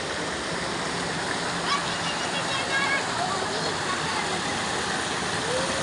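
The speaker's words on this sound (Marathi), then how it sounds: "छान पद्धतीचं पाणी वाहत आहे." Water runs over a shivling inside the Shri Siddhivinayak Ganesh temple at Dabhol, a steady, close rushing and splashing that holds an even level throughout with no break.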